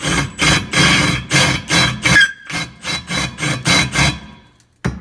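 A drill bit boring a small crater into a broken weld on a Bass Tracker Classic XL boat, heard as a series of about ten loud, rhythmic grinding bursts with brief pauses, close up and alone, ending after a short silence.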